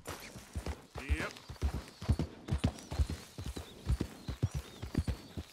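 Horse hooves gallop in Red Dead Redemption 2, a close, rhythmic clip-clop beating steadily at a quick pace, with a brief whinny-like sound early on.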